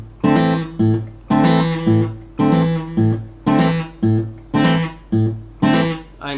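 Fingerstyle guitar in Travis picking, with the bass note deliberately exaggerated: around a dozen evenly spaced plucked chords and bass strikes ring out clearly and close, one after another, with no talking.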